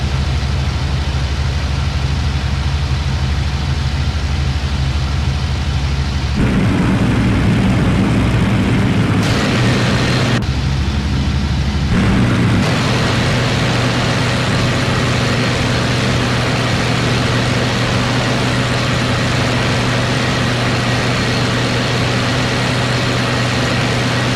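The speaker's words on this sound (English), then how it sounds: "Give these boys a flyby." A WWII fighter aircraft engine roars continuously in the IL-2 Great Battles combat flight sim, loud and dense throughout, with the pitch and character shifting abruptly during a low flyby.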